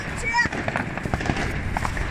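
Fireworks go off on a road during New Year celebrations, with rapid crackling bursts and pops that mix with street noise while people talk close by.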